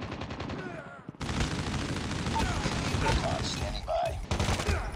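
M16 assault rifle bursts in Call of Duty Mobile rattle in rapid, dense fire, loud and close, with short gaps between volleys and game voice callouts mixed in.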